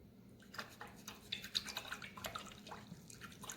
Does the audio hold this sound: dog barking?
no